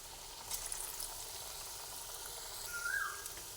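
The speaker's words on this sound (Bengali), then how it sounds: "কড়াইতে তেল দিয়েছি, তেল গরম হয়ে গেছে। সেই সময় এক এক করে তেলের মধ্যে সব কটাকেই ছেড়ে দিচ্ছি।" Vegetarian fritters dropped into hot oil in a wok over a medium gas flame, a soft, fairly quiet sizzle with a thin squeal of bubbling oil near the end.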